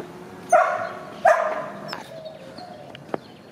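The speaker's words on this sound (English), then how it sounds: "Gregoria's dog is Spot." A neighbor's dog barks twice outdoors at moderate distance, two sharp separate barks followed by faint ambient sounds.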